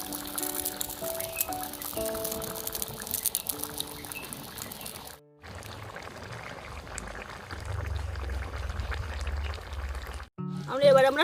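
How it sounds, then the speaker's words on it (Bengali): Water poured into a pan of jackfruit and potato curry, a steady liquid rush partway through with kitchen clatter and music-like tones around it. "এবার জল দিয়ে দেবো।"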